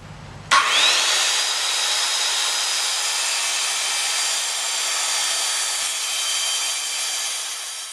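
Power saw cutting a wooden board along a clamped straight edge: the motor spins up abruptly after a brief pause, then a loud, steady whining cut holds alone until the end.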